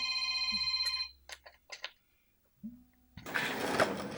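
A telephone rings in a quiet workshop during a bass guitar setup, with two bursts of steady electronic ringing, brief knocks in between, and louder handling noise at the end.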